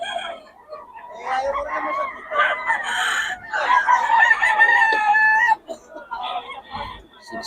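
A bull stag rooster crows repeatedly at a busy Bocaue poultry market, loud and near, with other fowl clucking and calling around it and faint crowd noise behind.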